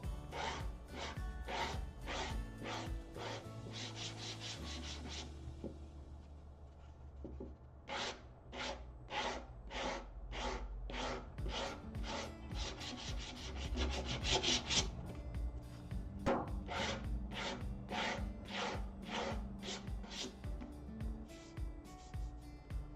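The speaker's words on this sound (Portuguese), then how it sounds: "Então, vamos lixar." Wood being sanded by hand with sandpaper gives quick rhythmic bursts of scratchy rubbing strokes in rapid series with short pauses between groups, close and fairly quiet.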